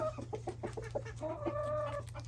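A rooster on a small homestead in spring calls his hens toward the nest box with rapid, rhythmic clucks, close and clear over a steady background hum.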